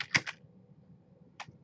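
Typing on a computer keyboard during a lecture, a quick cluster of near clicks at the start, a pause over a low background hum, then a single later keystroke.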